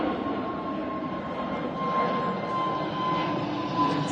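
An EasyJet Airbus A320 bound for Geneva rumbles steadily at Manchester Airport, its broad, continuous roar holding at an even, moderately loud level throughout with a faint steady whine on top.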